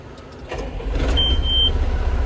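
A 6410 tractor engine cranks briefly and catches, settling into a loud, steady low idle close by, with a faint high whine partway through.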